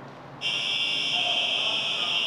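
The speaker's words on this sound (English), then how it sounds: "This is a fire alarm." A prison fire alarm blares in a steady, loud electronic tone that starts abruptly and holds continuously with no talking over it.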